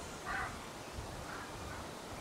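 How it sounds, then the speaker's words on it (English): Crows caw outdoors around a small flying Flywoo Lens 85 drone, their calls faint and distant over a steady, broad whooshing hiss of wind and propeller noise. "Some birds coming for you."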